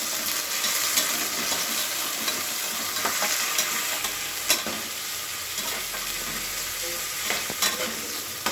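Mint leaves sizzle and fry in oil with onion and green chillies for Telangana bagara rice, a steady crackling hiss throughout with occasional sharp stirring clicks and scrapes, close and fairly loud, no talking.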